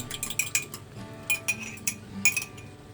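Cornbread batter being mixed in a bowl, a utensil clinking and scraping against the sides in quick irregular bursts, fairly close and moderately loud with no talking.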